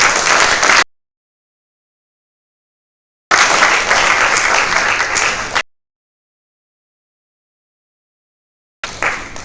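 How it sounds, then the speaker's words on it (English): Conference audience applause at a business event on African innovation, heard in loud bursts of clapping broken by abrupt silent gaps. "a round of applause."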